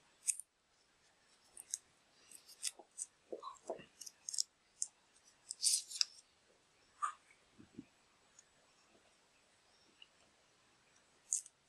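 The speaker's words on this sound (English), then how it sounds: "carefully wrap a piece of paper around each of a piece of tape around each of the connectors." Tape being wrapped around motor wire connectors during robot base assembly, heard as a string of close, crisp tearing and crinkling clicks in irregular bursts, with quiet gaps between them.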